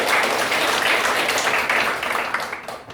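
Audience applause filling a hall, dense and sustained clapping that gradually thins out toward the end.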